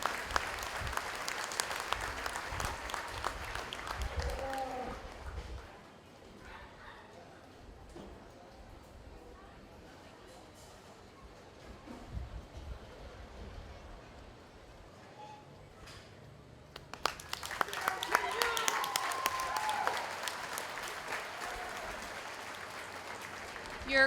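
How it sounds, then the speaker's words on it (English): Audience applause at a 4-H and FFA market steer show, a loud sustained clapping burst that fades to quiet crowd murmur, then swells again into another round of clapping near the end. "give everybody that's a part of this a nice round of applause"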